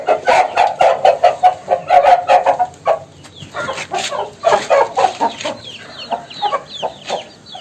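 Chickens and roosters in a home coop cluck in quick, loud, rhythmic bursts, with sharper calls and a brief pause midway, close by and with no talk.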